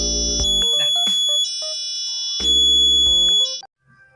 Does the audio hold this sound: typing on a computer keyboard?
no